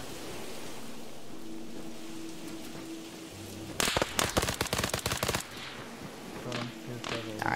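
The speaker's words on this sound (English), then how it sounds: "but that guy far is now shooting" Video game gunfire on an oil rig, with a rapid burst of automatic shots fired close for about a second and a half over steady wind-like ambience, followed by a few scattered later shots.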